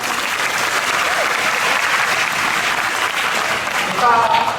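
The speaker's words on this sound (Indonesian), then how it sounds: "Berdiri, ini kasih tepuk tangan." A large audience at a Ramadan religious lecture with Prof Mahfud MD stands and applauds, giving a dense, continuous wash of clapping that holds steady and swells slightly near the end, with faint voices underneath.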